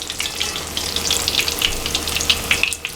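Mackerel frying in a pan gives a steady, close sizzle, dense with bright popping crackles of spattering oil for the whole stretch, with no voices.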